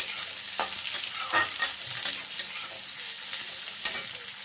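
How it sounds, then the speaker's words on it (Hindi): Beans and carrots frying in a pan on low heat, a bright continuous sizzle punctuated by several sharp spatula scrapes and taps, close and fairly loud, with no talking. "इनको थोड़ा भून लेते हैं।"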